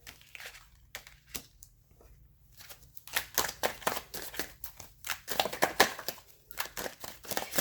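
Tarot cards being shuffled by hand, a run of crisp riffling and flicking bursts, sparse at first and then denser and louder, close up with no talk.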